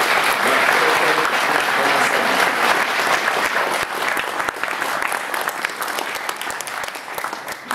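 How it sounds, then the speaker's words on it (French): An audience claps at a municipal event, a loud and dense burst of applause that holds steady for several seconds and then thins slightly toward the end, with no voices over it. "j'aimerais vraiment qu'on les applaudisse parce que c'est vraiment un effort considérable qu'ils ont fait"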